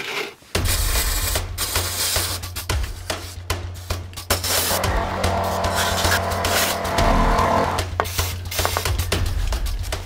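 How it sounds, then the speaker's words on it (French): Brake cleaner hisses from an aerosol can in long, steady bursts as it is sprayed down over a car engine block to find an oil leak, loud and close, with brief pauses and light rattling between sprays. "Donc là, je vais simplement balancer du nettoyant frein par au-dessus."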